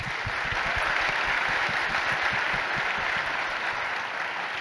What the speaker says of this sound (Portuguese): Então eu queria uma salva de palmas também para a organização aqui